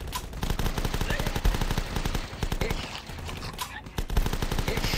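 Rapid gunfire from The Last Stand, a dense stream of shots with a few heavier bursts running steadily throughout, loud and close, with faint talk underneath.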